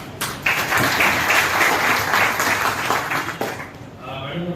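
Thick crowd clapping from officials and school staff at a district ceremony in Mandla honouring top-scoring board exam students, loud for about three seconds, then thinning as voices take over.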